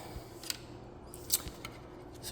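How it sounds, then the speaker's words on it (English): Scissors snip through a plastic zip tie while a 3D printer's x-axis is taken apart, giving a couple of short, sharp clicks at close range over a quiet background. "It was zip tied here, so make sure you cut that off."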